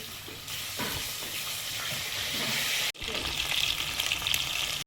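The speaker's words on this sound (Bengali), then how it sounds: "মাছগুলো ভাজা হয়েছে, তুলে নিচ্ছি" Steady, loud sizzling and crackling of fish frying in hot oil fills the clip, with brief stirring clatter and a short break partway through.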